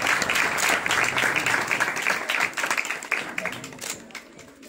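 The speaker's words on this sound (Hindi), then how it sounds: "आप सबसे गुजारिश है कि इनके लिए भरपूर तालियां" Moderately quiet crowd applause at a gospel preaching gathering in Pakistan, greeting new believers with a few seconds of dense, steady clapping that thins slightly toward the end.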